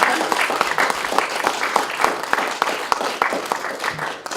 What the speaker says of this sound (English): So we'll give Jane a clap.